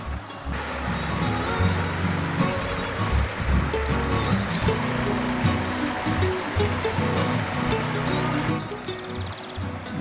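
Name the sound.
small forest stream flowing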